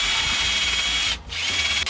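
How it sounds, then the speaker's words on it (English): A power drill fitted with a sanding wheel grinds against brake calipers in a continuous close, harsh whirring buzz that briefly dips once before resuming. "So far, this drill bit wheel is working pretty good."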